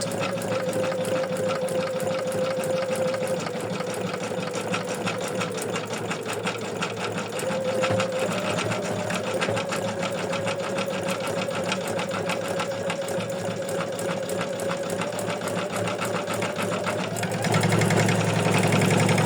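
An embroidery machine stitching coil stitches on a bookmark over tearaway stabilizer hums and taps in a fast, even rhythm, close and steady, with a slight shift near the end.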